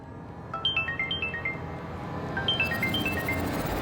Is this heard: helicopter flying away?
no